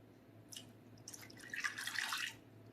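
Water is poured into a bowl of cake mix, starting as soft trickles and splashes and building into a brief, steady pour before it tapers off, fairly quiet and close.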